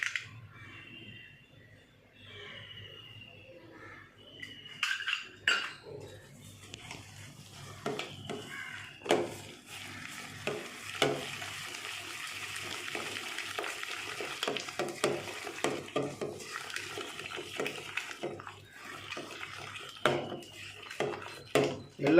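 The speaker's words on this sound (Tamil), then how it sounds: "எல்லாம் மிக்ஸ் பண்ணிக்கணும்" Fish finger batter of pepper, salt and egg being mixed in a bowl, with quiet scraping and repeated clinks and taps of a utensil against the bowl, close and without voices.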